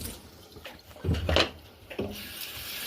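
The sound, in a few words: washing squash under running water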